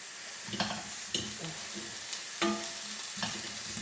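Jamaican-style coconut jackfruit curry sizzles steadily in a pan nearby as a utensil stirs it, scraping and clinking every so often.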